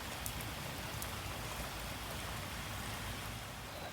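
Steady heavy rain pours down with water rushing along a flooded yard drainage ditch during Oklahoma spring flooding, a dense continuous wash of noise close by with no talk.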